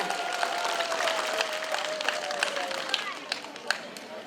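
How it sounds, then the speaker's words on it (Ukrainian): A group applauds for Anya at a Trinity (Green Holidays) celebration, dense clapping throughout with a few sharper claps standing out, while a voice speaks over it. "Гучні оплески Анічці"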